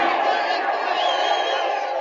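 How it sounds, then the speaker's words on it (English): A baseball crowd roars in a sustained, bright wall of cheering and shouting, steady and loud throughout, with a band-limited, old-broadcast sound. "The crowd's going wild."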